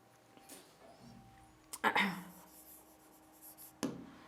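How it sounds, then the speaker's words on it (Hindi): A pen writes an answer on paper, producing soft, faint scratching strokes. A few louder bursts of handling noise and a voice speaking briefly come through in a quiet room. "चलिए स्टार्ट करते हैं आंसर लिखना"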